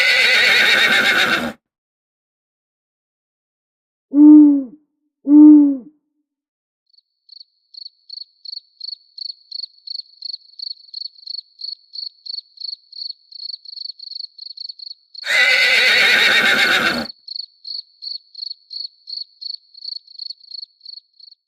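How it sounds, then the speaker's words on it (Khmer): A horse whinnies in a forest at night, two short neighs standing alone. A steady, rapid cricket chirp starts afterwards and runs throughout, broken by two loud bursts of noise. "តើមានអ្នកណាកំពុងជិះសេះឆ្ពោះមករកយើង"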